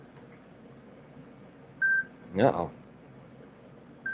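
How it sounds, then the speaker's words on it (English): A timer goes off with a short electronic beep, then a brief spoken exclamation, then another beep at the very end, all over a faint room background. "That's the timer."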